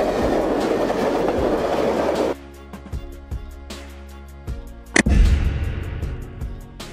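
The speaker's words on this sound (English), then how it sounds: "Diesel locomotive." A diesel locomotive rumbles close by with a deep engine hum and sharp metallic clanks from the rails, a loud burst near the end.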